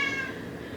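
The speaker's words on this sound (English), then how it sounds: "Don't mind my cat, it's time for her to eat." A hungry house cat lets out a single drawn-out meow in a kitchen while cupcakes are being baked, fairly faint and slightly distant, a short tonal cry that fades quickly.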